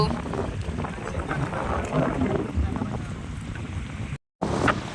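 Strong wind buffets the microphone beside a village fishing pond, a steady loud rumbling roar with voices partly heard beneath it and a brief dropout near the end.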